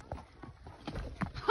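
Horses clip-clop along a trail on a ride with friends, a few soft hoof beats mixed with nearby voices and some rustling.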